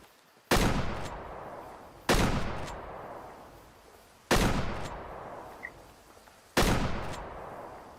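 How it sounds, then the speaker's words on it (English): Four heavy shotgun blasts boom one after another at roughly two-second intervals in the hunting game Way of the Hunter, each loud shot trailing off in a long echoing decay over a quiet outdoor backdrop. "We gotta drive up really close and see if we can get it with a shotgun"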